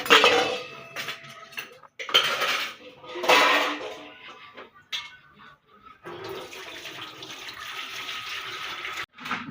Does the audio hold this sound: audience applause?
no